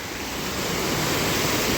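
Heavy water rushes through a broken dam on a flood channel in Ecatepec. It makes a loud, steady, broadband roar that swells slightly and carries on without a break, with no talk over it.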